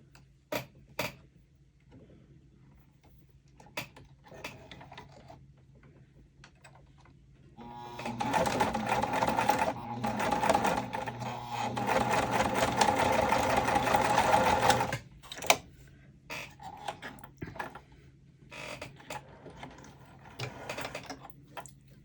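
A sewing machine stitching a bag runs in one sustained, loud whirring burst of about seven seconds, with scattered clicks and fabric handling before and after, heard up close.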